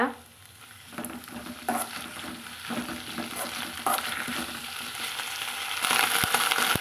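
Thuthuvalai leaves are stirred and sautéed in a pan for a chutney, a steady soft sizzle under repeated scraping strokes of a spoon, close up, with sharper clinks toward the end.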